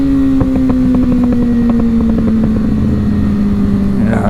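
A motorcycle with a freshly flashed ECU idles loudly and steadily nearby, with irregular popping backfires from the exhaust.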